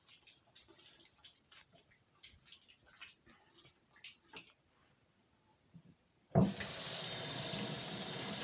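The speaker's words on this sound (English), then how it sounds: "I have to wash my hands first." Hands are washed under a household tap: faint rubbing and light splashes come first, then the water runs in a loud, steady stream for the last couple of seconds.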